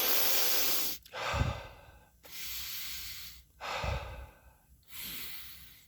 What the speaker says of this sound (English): So just normal breathing.